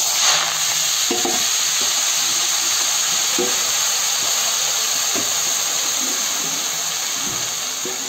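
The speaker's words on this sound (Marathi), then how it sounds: "हे बघा, फोडणी घालते." Tempering sizzles in hot oil in a pan while fresh winter harbara greens are cooked, a loud steady hiss and crackle with faint stirring scrapes, and no talking.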